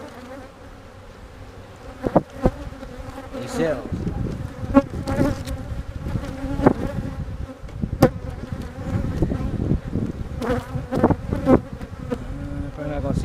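Honey bees buzz steadily around a split hive, a dense droning hum with individual insects zipping close past and away, under a man's brief quiet remark.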